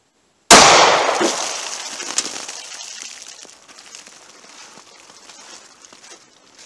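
A single sharp, loud 9mm gunshot firing a Hornady Critical Duty 135 grain round, with a long ringing decay and echo trailing off over several seconds, no talking.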